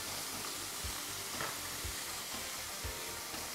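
Vegetables sizzle steadily in a pan with olive oil, salt and pepper, a constant close hiss broken by a few soft stirring knocks, with no one talking.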